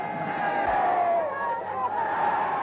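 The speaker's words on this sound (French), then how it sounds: "La foule londonienne manifeste sa satisfaction à Chamberlain lors de son retour." Archive recording of a London crowd cheering Prime Minister Chamberlain on his return, a dense continuous roar of many voices, loud and sustained, with a muffled, narrow old-film sound.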